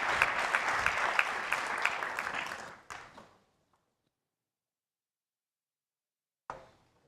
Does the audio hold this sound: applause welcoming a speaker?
yes